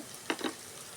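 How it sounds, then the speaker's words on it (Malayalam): Onions fry quietly in a pan for a simple dal curry, a soft low hiss broken by two quick stirring scrapes close together. Nothing else is heard. "ഞാൻ ഉള്ളി നന്നായി ചമന്ന് വരട്ടെ"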